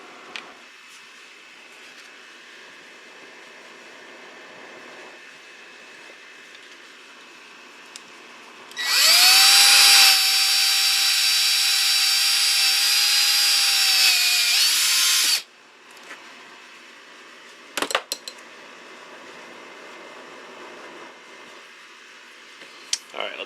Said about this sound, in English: we're going to attempt to take our screw gun and screw this down into our old cell